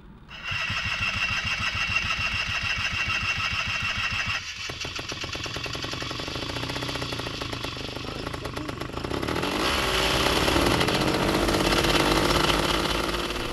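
Light aircraft engine cranking and catching, then settling into a loud, steady running roar that builds slightly toward the end, heard up close with no talk.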